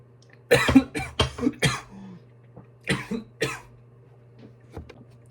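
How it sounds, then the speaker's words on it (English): Several harsh coughs in quick bursts, then a pause and two more coughs, close and fairly loud over a low steady hum. "I had a massive coughing fit then."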